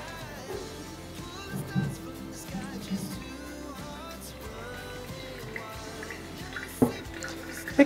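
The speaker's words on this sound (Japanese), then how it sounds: "ついたらどんどんお湯を注いでいきますね。" Hot water poured steadily into a large coffee dripper while brewing a batch of iced coffee, giving a soft continuous trickle and drip with a few light clinks, close and fairly quiet.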